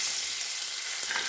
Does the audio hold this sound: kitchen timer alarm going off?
no